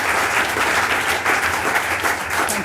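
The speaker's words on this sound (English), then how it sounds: "So I think another round of applause for Jane, please." Audience applause for author Jane Gardam at a literary festival event, a dense, loud, continuous wash of many hands clapping that holds steady for nearly three seconds without voices.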